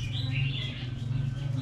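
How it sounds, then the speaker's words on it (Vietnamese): Small forest birds stuck in a glue trap chirp in quick, close, high-pitched calls over a steady low hum, without any talking. "Đây là mấy con chim mình đi bấy keo ở trên rừng ý"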